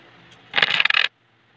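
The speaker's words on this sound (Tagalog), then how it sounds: "Patanggalin lang natin yung mga barya-barya." Coins drop and jingle as they are picked out of laundry, a short, bright metallic clatter lasting about half a second, close and alone against near silence.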